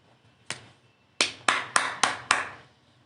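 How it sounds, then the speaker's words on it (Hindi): Six sharp, separate claps spaced through a quiet room, one early hit and then five close together in a quick uneven run, each fading fast; no voices. "तालियां हो जाएं"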